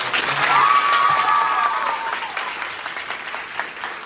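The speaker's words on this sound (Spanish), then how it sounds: "Un aplauso para Josefa, por favor." An audience applauds at a 4º ESO secondary-school graduation ceremony, loud dense clapping at first that gradually thins and softens, with a faint whistle-like tone early on.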